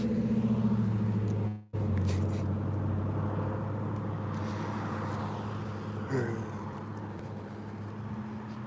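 A truck with a loud engine drives through a street intersection, heard as a steady low engine rumble with a brief cutout, then continuing as a moderately faint, gradually fading drone with passing traffic.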